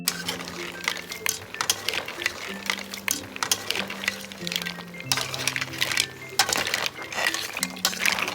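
Shrimp and mussels being stirred in a cooking pot outdoors on a farm, with repeated metallic clinks and scraping of a utensil against the pot, close and fairly loud, with a steady tone running underneath.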